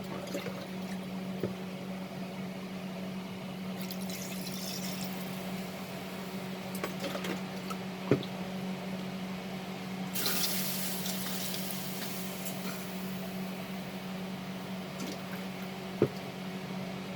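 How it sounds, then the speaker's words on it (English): Water poured from a tap or jug into a pot for beetroot chicken soup, a steady moderate splash running throughout, alone with a steady hum beneath and a couple of faint clinks. "I will add water to this."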